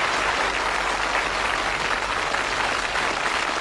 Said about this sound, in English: Give them a nice warm round of applause because they've done very well.